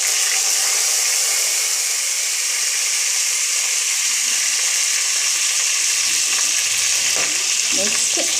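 Whole fennel, poppy seed, cinnamon and clove sauté in a hot pan for beans kurma, a loud constant sizzle with faint stirring scrapes toward the end.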